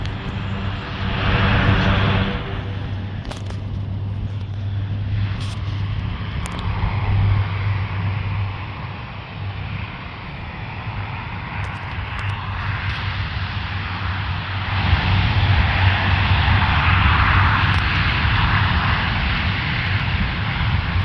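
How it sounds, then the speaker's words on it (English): A Lockheed C-130 military airplane takes off at Fort Bragg, its turboprop engines roaring steadily with a broad, sustained drone that swells and shifts in pitch over about twenty seconds, with no talking. "C-130 is making takeoff."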